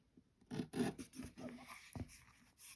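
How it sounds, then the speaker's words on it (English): A knife slices through the cardboard binding of a handmade cardboard book in short, close scratchy cutting strokes of uneven rhythm. The sound is quiet overall and no one speaks. "I'm going to cut this off completely with the knife."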